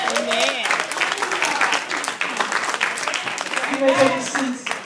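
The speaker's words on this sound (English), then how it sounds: "Let's give the Lord a hand clap." A church congregation claps together for the Lord after a prayer, rapid crisp hand claps blending into applause under raised voices speaking and calling out.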